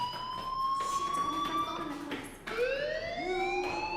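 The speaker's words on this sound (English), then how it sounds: "Hey, do you hear that fire alarm?" A fire alarm in the video game Life is Strange sounds as a steady high wail that slides in pitch, with a rising sweep midway, continuous and fairly distant under faint background noise.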